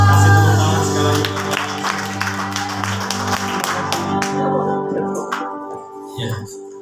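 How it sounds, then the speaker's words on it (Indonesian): A church congregation at a Sunday worship service applauds, a spread of many hands clapping from a crowd that thins and fades toward the end, with a few louder claps and some voices close by. "Kasih tepuk tangan sekali lagi."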